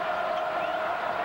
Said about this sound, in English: But the crowd is standing and applauding his defensive effort